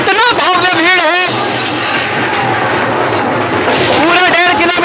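A huge crowd stretching along a Ram Saptah procession route in Bhatapara keeps up a constant loud babble of voices, with nearby speech and chanting at the start and end and dense crowd noise between.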